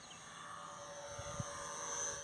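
A balsa-wood model of a Wellington airplane drones steadily overhead during a flyby, its engine hum faint and distant with no talking.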